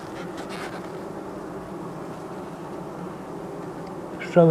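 A steady, low buzzing of many honey bees at a hive hums throughout at close range, ending with a brief louder burst.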